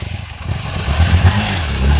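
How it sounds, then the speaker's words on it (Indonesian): Old stalling motorbike, a loud close engine sputtering and revving unevenly with low rough throbs over two seconds. "Mogok motor teh"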